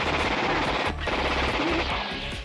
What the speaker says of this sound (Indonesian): Jack tertembak dan tiba-tiba menarik pelatuknya